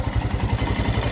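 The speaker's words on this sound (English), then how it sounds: "Engine's pumping away. Very little vibration." Royal Enfield Himalayan motorcycle engine running close by, a steady low thumping pulse with even rapid beats and a rough mechanical texture, alone without talk.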